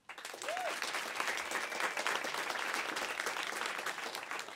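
Audience at a Moth storytelling event breaks into steady, sustained applause filling the room, fairly distant and even, with no voices over it.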